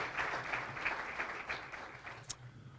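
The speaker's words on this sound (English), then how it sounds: "Let's give them all a round of applause" A chamber of commerce luncheon audience gives a round of applause, a steady patter of many hands heard from some distance at moderate volume, with one sharp clink near the end.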